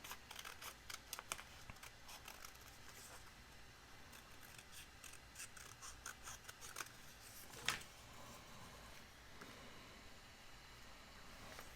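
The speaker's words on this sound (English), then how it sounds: "I'm just going to cut this white off that's around it" Scissors snip white paper for a mini December daily journal, giving quiet, close, repeated crisp cuts in irregular bursts, with one sharper snip near the end.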